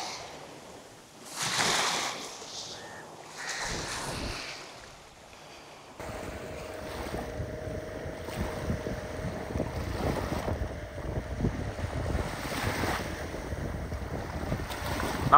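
A fishing boat heading out to sea off the Jaffna coast of Sri Lanka, a steady engine hum under wind buffeting the microphone and splashing water, louder and more constant after the first few seconds.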